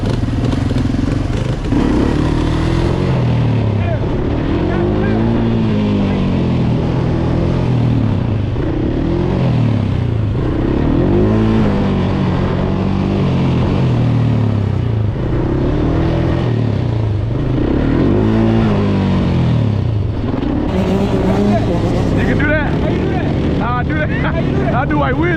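A Yamaha dirt bike runs steadily up close, its engine revving and rising in pulses as it is ridden, with people talking and calling out over the motor throughout.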